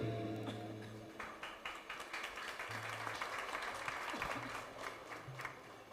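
An audience claps at a Maha Aarti religious gathering at a temple; after a brief low murmur, the applause swells into dense, sustained clapping from many hands, with a few sharper claps standing out.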